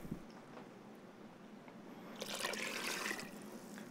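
Water is poured into a pot of onions for vegan French onion soup, starting as a soft trickle and swelling into a fuller splashing pour that runs on to the end.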